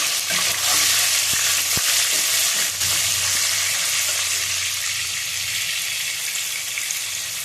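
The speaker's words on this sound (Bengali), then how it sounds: "দেবো নুন, ভালো করে কষিয়ে নেব।" Tomato and salt fry in a pan for khichuri with a loud, continuous sizzle and hiss, broken by a couple of dull knocks from stirring.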